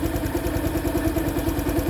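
A new 110 cc Honda Wave 110i motorcycle with alloy wheels idles steadily, a quiet, even low putter with light mechanical clatter, close and alone.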